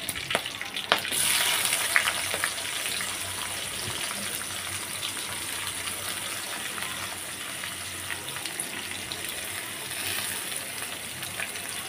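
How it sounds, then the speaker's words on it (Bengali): Two cups of chopped onions frying in white oil in a pan, giving a steady, close sizzle with a brief stirring clatter near the start, continuous and even to the end. "পেঁয়াজটাকে এখানে আমি ভেজে নিব যতক্ষণ না ব্রাউন কালার হচ্ছে ততক্ষণ পর্যন্ত।"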